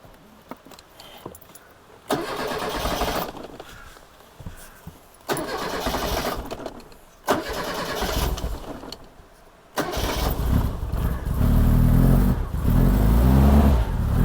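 A barn-find Reliant Rialto car cranks in several loud, close bursts with pauses between, then fires to life and runs with a steady, rough engine note.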